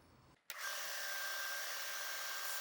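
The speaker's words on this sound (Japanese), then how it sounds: "ナット3つを削って薄くします。" A power grinder spins up abruptly after a quiet moment and runs at a steady, loud whine, shaving down three metal nuts for a woodworking table saw fence build.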